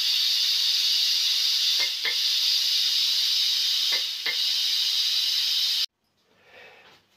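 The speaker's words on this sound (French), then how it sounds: "Mais la vapeur elle sort, ça c'est sûr." Loud, steady steam hissing pours from a steam generator iron being descaled, holding constant for several seconds with a couple of faint knocks before cutting off abruptly into near quiet.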